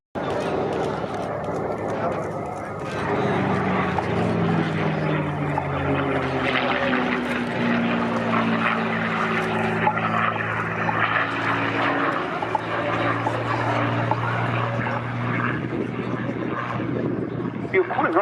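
A Packard Merlin-engined warbird flies at the RAF Cosford air show, its steady propeller drone loud and sustained throughout, with people talking over the engine noise.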